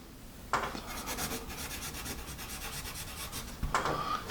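A Dixon fashion pencil scratches across paper in a steady, dry rub that runs close and fairly quiet for several seconds, with sharper strokes at the start and end and no voices.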